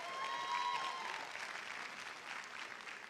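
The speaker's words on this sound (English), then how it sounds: "cheer for them" Audience applause with some cheering fills the room at a school board meeting, honoring first grade scholars from an academic competition; steady clapping throughout, fairly distant and diffuse.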